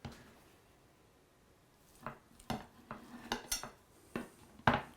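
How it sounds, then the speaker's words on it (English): Cutlery cuts into an Italian egg, sausage and potato frittata on a plate, producing a series of faint, scattered clinks and scrapes against a quiet background. "I'm just going to cut a little piece and taste it for you"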